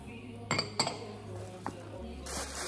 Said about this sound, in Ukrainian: а всередині у нас тут посуд. Ось така скляна ємність.